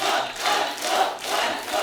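A studio audience on a comedy talk show cheers and applauds to welcome a singer-actor guest, a dense, surging crowd roar filling the room.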